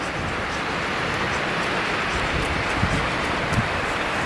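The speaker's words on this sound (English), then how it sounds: "And it's quite windy today" Outdoor wind blows hard and continuously across the microphone while carving feather sticks with MKM Mikro knives, a steady roaring rush with occasional gusty thumps.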